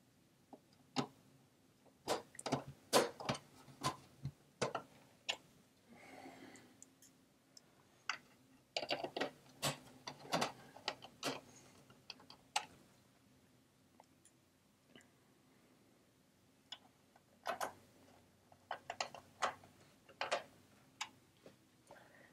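Small screws being driven back into the casing of a 3M SCP716 DLP projector during reassembly, heard as sparse, faint, irregular clicks and ticks of a hand screwdriver with short pauses between bursts.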